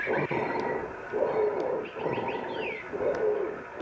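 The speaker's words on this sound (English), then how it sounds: "The bird noises are also creepy." Low, hollow bird coos from an analog horror film repeat in a steady rhythm, about four calls in a row, with faint thin chirps above them.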